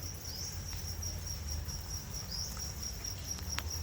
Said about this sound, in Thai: นี่ครับคือจิ้งหรีดพ่อพันธุ์แม่พันธุ์ครับ